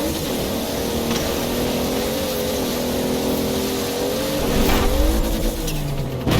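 A Toyota Supra at full throttle in the Forza Horizon 4 racing game, its engine a loud, steady, buzzing roar that wavers slightly in pitch over about six seconds, with a brief harsher surge near the end.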